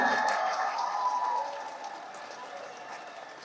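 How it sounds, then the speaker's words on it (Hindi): Audience applause greets a poet at a mushaira during the 2024 Quetta Literature Festival, a dense, steady crackle of many clapping hands that slowly eases over a few seconds. "आप सबकी भरपूर तालियों में खड़े होकर उनके शायान शान इस्तकबाल कीजिए"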